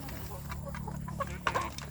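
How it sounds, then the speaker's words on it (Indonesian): Native village chickens cluck close by while being fed, short clucks over a low background hum, with a person talking nearby. "sambil memberi makan anak ayam kampung kita itu"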